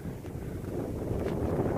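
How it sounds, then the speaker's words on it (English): Wind gusts steadily across an outdoor spot under changing skies, a loud, low rumbling roar buffeting the microphone with no pause and no voices. "And it's gotten a little bit windy."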